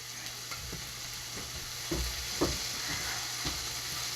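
Mashed potatoes and cheese being stirred together for perogy filling, soft thick squelching strokes with a few sharper spoon knocks, quiet and close, no talking.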